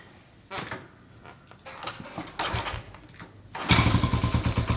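A Honda Trail 70 motorcycle engine with the choke on is kicked over, several short kick-start thumps followed by the engine catching and sputtering loudly in a rapid, uneven rhythm.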